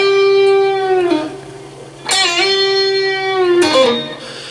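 Electric guitar plays a slow blues lick, with sustained notes, bends and releases and a pull-off. A few phrases ring out clearly at close range with no talking.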